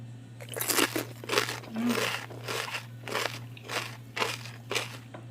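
Close by, someone bites into a sweet tomato eaten by hand and chews it. Several soft, crunchy, juicy bites and chews sound over a steady low hum.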